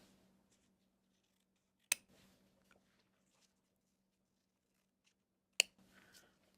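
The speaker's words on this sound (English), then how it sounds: "when you're happy, just trim the edges" Scissors trim the fabric edges of a small Easter bunny sewing project, two sharp, close snips several seconds apart, with faint fabric rustling in between against near silence.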